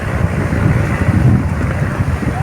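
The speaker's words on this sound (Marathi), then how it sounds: "तुम्हाला दाखवलेली बोट झूम करून ही आली, येते बघा" A boat nears the shore at Dahanu beach, heard as a steady, loud rumble blended with strong wind buffeting and surf, with no clear separate engine note.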